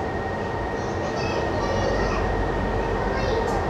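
A driverless Metro C line train in Italy rumbles steadily with broad low-pitched noise, a faint high tone running through it.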